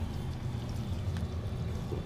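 Water draining down through damaged bathroom sewer pipes, a steady low rumbling flow that runs continuously and moderately close throughout, with no voices.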